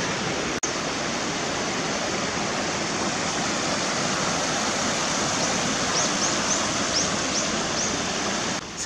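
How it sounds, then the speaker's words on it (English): Water in a stream flows steadily in a broad, continuous rush along a road leading up to a waterfall in Jirisan National Park, South Korea, with a few faint bird chirps near the end. "There's water flowing, so I keep following this"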